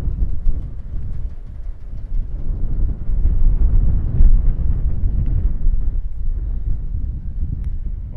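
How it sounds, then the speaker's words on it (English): Strong wind buffets the microphone in a continuous low roar with gusty surges, heard outdoors up high in Punda, Willemstad, Curaçao, with no talking. "Wow, it is windy."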